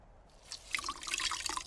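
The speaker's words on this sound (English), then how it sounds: "The shirt is dripping." A wet shirt in the Lost Chronicles of Zerzura adventure game drips water in a quick scatter of small, close splashes. The dripping starts after a brief quiet moment and continues on its own.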